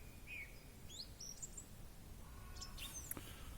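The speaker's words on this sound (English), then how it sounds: "it's just nice listening to the birds." Birds chirp and tweet in short, bright calls scattered over a steady outdoor hiss, fairly distant and soft, with no voices.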